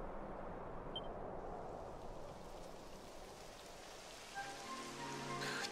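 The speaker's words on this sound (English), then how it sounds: "It would have to go and start raining, wouldn't it?" Rain begins falling in the video game Dragon Quest XI S, a soft, steady patter of drops that hisses quietly throughout, with a few brighter tonal game sounds rising near the end.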